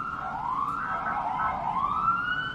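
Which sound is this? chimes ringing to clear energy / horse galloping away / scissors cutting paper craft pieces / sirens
sirens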